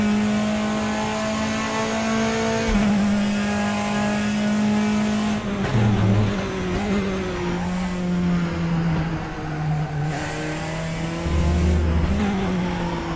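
A Praga race car engine in RaceRoom drones steadily at Silverstone on cold tyres just out of the pits, its pitch rising and falling through gear changes and lifts, loud and close throughout.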